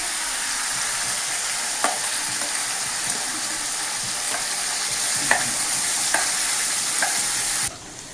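Masala spices being stirred into vegetables frying in a pan, a continuous sizzle with a spoon scraping and clinking at intervals, close by.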